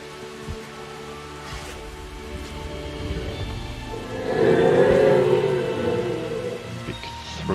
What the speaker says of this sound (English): Big throaty roar there.